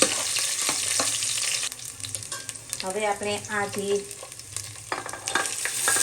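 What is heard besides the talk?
nuts and raisins frying in ghee, mixed with a spoon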